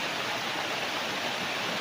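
A river beside a farm lot in Nagcarlan, Laguna flows with a steady broadband rush of water, moderately loud and continuous, with no voices.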